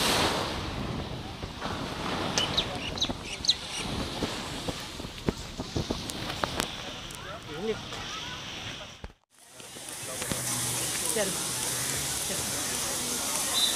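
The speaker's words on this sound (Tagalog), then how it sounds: "Lakas ang alon, mga kaliskarte." Strong ocean waves on the beach at the Atlantis hotel in Dubai, a steady roar of surf with wind buffeting the microphone, with people talking over it and a brief dropout near the end.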